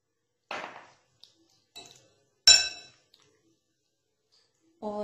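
Chicken marinade is stirred with oil in a bowl, giving a few sparse clinks and scrapes of a spoon against the dish separated by silence, and a voice begins speaking at the end.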